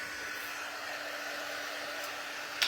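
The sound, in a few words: heat tool blowing hot air to dry craft project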